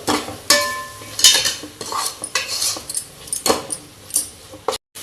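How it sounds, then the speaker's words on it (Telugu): Metal spoon scraping and clinking in a pan while chili powder, turmeric and coriander powder are stirred in, brisk irregular scrapes over a light sizzle, close and fairly loud. "ఇవన్నీ వేసి బాగా కలిపెట్టాలి."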